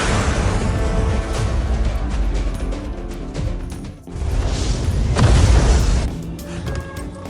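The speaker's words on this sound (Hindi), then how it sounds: "सॉरी सर, मिसाइल लॉन्च हो चुकी है। 30 सेकंड में धमाका हो जाएगा।" Heavy booming missile explosion in a Hindi-dubbed South Indian action movie, a loud rumbling blast that swells and rolls for several seconds, briefly dips, then surges again with crashing debris.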